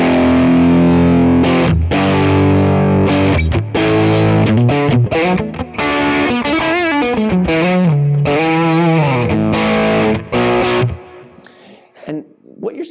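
Electric guitar through a Lekato Blues Breaker-style overdrive pedal, played as gritty, driven chords and single-note lines with a bright top end, loud and close, ringing out and decaying at the end.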